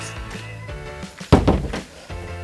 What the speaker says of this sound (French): On ferme quand même la porte.